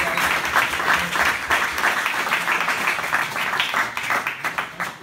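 An audience at a handball home-game talk show applauds steadily, a dense wash of clapping that holds for several seconds without pause.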